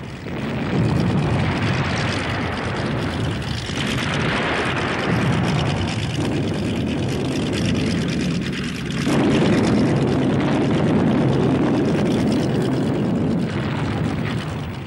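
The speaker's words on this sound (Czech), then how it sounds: "K zaminování terénu se využívají vrtulníky." Red Army military helicopters fly low over terrain during a 1982 exercise while laying mines, their engines and rotors making a loud, steady, continuous roar that stays close throughout.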